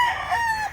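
A Talisayon rooster crows once at a poultry market, a loud, close, drawn-out call that holds steady and then trails off.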